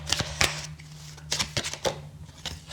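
Tarot cards shuffle and slide from a deck near at hand, with crisp, quick riffling flicks in several bursts and soft handling rustles between them.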